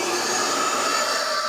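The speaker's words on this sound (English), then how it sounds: "vacuum on" A shop vacuum runs steadily during gold ore crushing work, a loud, even whooshing roar that holds constant throughout, with no voices over it.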